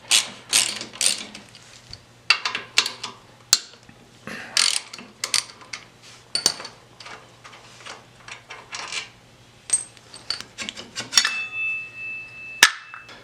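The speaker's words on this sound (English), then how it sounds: "We'll go ahead and take off the" A ratchet loosens the front brake caliper bolts on a 1987-or-later Harley Davidson during fork work, giving close, rapid bursts of clicking in several separate runs with short pauses between them.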